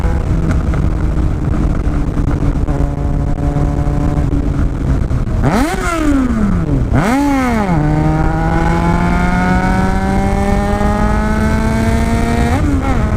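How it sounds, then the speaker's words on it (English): A loud motorcycle engine drones steadily on a back road, then revs sharply up and down twice before settling into a rising, sustained whine, close and dominant throughout. "here comes the motorcycle"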